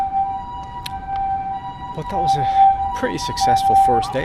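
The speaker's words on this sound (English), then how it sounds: "Yeah, it's an ambulance. Sorry for the noise of that." A steady ambulance siren tone runs throughout while someone talks over it, with street noise building toward the end, in Kagoshima, Japan.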